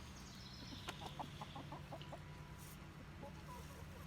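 Chickens and meat birds cluck softly in a grassy outdoor run, a faint, distant series of short repeated clucks over steady background noise.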